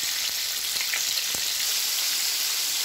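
Chicken pieces deep frying in hot oil for KFC-style crispy fried chicken, giving a steady loud bubbling sizzle with small crackles throughout.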